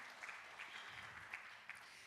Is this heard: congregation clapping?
yes